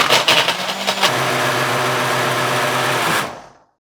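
An electric blender whirs steadily while blending frozen strawberries with sweetened condensed milk, milk powder and fresh milk for bubble tea, loud and continuous at close range for about three seconds, then cutting off and fading away.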